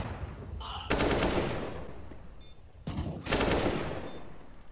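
CS:GO gunfire comes as two loud, close automatic bursts, each a rapid rattle of shots lasting about a second, separated by a short lull with faint background noise.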